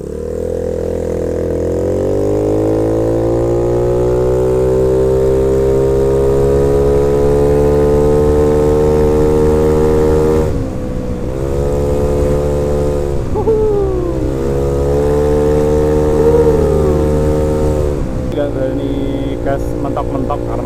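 A Yamaha Mio scooter with a 190cc bore-up engine and light rollers revs hard at full throttle, its loud, close, rising drone steady for long stretches and easing briefly twice before climbing again.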